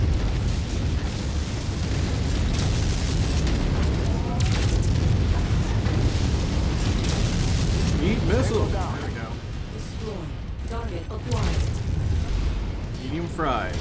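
Missile explosions in the MechWarrior 5 video game, a dense stream of booms and bursts rumbling continuously in a busy battle mix, with voices talking over the top.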